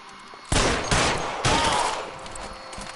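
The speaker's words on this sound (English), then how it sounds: "Some shooting on this mission." Rapid bursts of gunfire crack out during a shooting mission in a PS4 video game, three loud volleys in quick succession with ringing tails, no voices.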